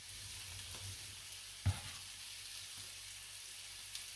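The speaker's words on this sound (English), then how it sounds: "Back to the sizzling halloumi." Halloumi slices fry in a pan with a faint, steady hiss of sizzling and a single soft knock partway through, quiet and close with no talking.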